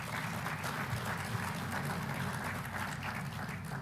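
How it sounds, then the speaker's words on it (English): A crowd at a State of the City address in Little Rock claps steadily throughout, a dense, even wash of applause at moderate volume with no break. "Let's give them a round of applause."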